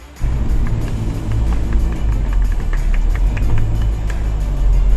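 A Mahindra Thar SUV climbs over rocks on an off-road course, its engine rumbling loud and close as it accelerates, a heavy low drone with clattering bumps throughout.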